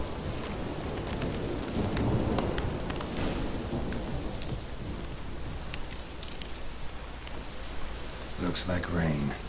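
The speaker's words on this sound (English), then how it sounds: "Looks like rain." Steady rain falling in The Witcher 3: Hearts of Stone, a continuous even wash of downpour with a few brief louder spatters and a faint tonal sound near the end.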